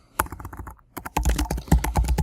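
Someone types a query on a computer keyboard: a short burst of close clicks, a brief silent pause, then a denser flurry of keystrokes.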